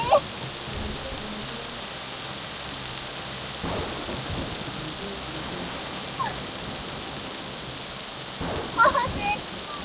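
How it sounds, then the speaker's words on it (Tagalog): Steady heavy rain pours throughout, with low rumbles of thunder rolling in at a few points and a brief voice near the end. "Ulan lang to at kidlat."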